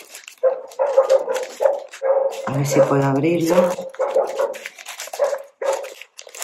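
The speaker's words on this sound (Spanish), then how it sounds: "si pasa gente no le ladra, pero como pasa un perro" A small dog barks repeatedly at a passing dog, sharp yips and barks close by in quick bursts, with a longer whimpering stretch in the middle while someone speaks over it.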